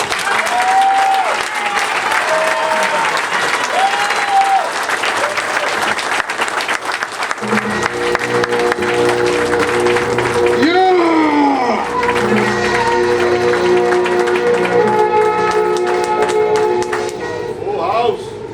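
A full-house crowd at a pro wrestling Hall of Fame induction cheers and claps loudly and continuously, with shouts rising from the mass of applause. Someone speaks over the noise partway through and keeps talking as the cheering continues.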